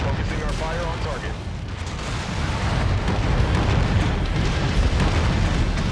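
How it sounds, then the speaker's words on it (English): Heavy AC-20 autocannon fire in MechWarrior 5: Mercenaries, a dense, continuous rumble of booming shots and explosions that stays loud throughout. "Why would you walk in front of me when I'm firing AC-20s?"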